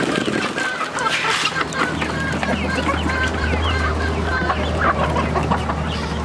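A flock of chickens clucks and squawks while being fed, a dense, constant close chorus of overlapping calls over a low background hum.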